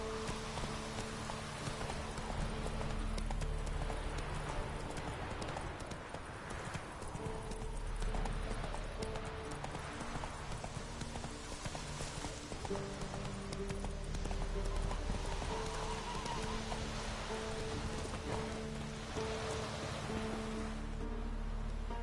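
Hooves of a horse in The Witcher 3 clip-clop at a steady galloping rhythm, continuous and fairly close, over a layer of game ambience and low music, with occasional snorts.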